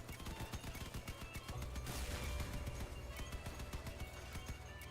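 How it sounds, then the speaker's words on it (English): A machine gun bunker fires in the vehicle combat game Crossout, rapid evenly spaced shots rattling on without pause, fairly quiet and steady across the whole stretch. "It's the machine gun bunker."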